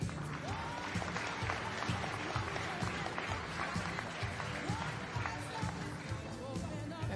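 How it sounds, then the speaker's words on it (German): An audience at a horse show applauds steadily throughout, with sustained clapping from a crowd and some speech mixed in. "Ja, klatschen Sie ruhig."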